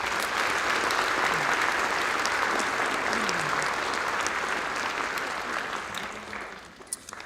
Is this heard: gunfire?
no